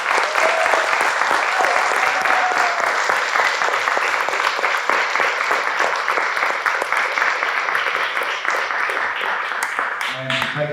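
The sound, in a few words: audience applause for the speakers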